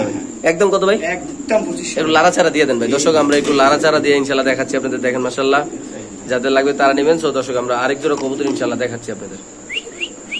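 Pigeons at a pigeon market in Bangladesh coo and chirp intermittently in the background while someone talks continuously over them up close.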